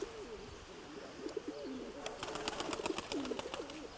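Pigeons coo softly in repeated, rolling phrases at a distance outdoors, and a burst of short, sharp chirps joins in partway through.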